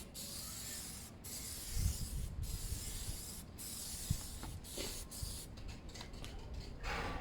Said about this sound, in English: I'm going to just spray it on and we'll see.